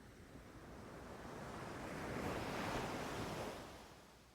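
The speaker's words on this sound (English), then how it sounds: "The waves are choppy and turbulent, harsh as they crash onto the large rock" Choppy, turbulent sea waves crash onto large rocks along a stony beach. A broad roaring wash swells to a peak and then recedes, steady and somewhat distant, with no voices.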